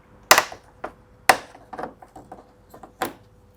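Sharp plastic snaps and clicks as headlight bezel trim pieces are pried off a Ford F150, several loud pops spaced apart with smaller rattling taps between, close and without talk.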